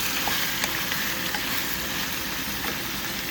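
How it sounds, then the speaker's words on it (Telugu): Chicken leg pieces cook in a pan of curry, a dense continuous sizzle and hiss close by with faint scraping of stirring mixed in, no talking. "ఇప్పుడు ఒక 2 మినిట్స్ నుంచి ఉడుకుతుంది. కొంచెం కలిపేద్దాము."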